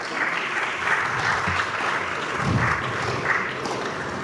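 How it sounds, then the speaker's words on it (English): At a student conference, an audience claps for the next presenting chapter with a continuous, moderately loud round of applause and no voices on top. "Let's clap for them"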